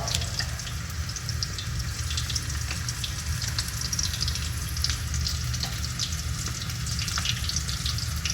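Battered shrimp frying in a pot of hot oil, a steady dense crackle and hiss that holds evenly throughout at moderate volume, with no talking.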